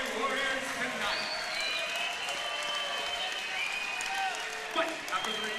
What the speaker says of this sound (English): big round of applause for both these Muay Thai warriors tonight